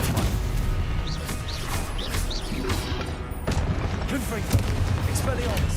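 Stupefy spell combat in Hogwarts Legacy on PS5: dense, continuous magical blasts and impact booms over a busy game soundtrack, with short crackling bursts throughout and a voice speaking over the battle.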